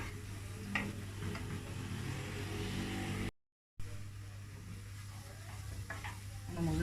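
Dry flour being roasted and stirred in a pan, a steady scraping and faint sizzling texture with brief ticks of the utensil, continuous apart from a short silent gap midway, no talking.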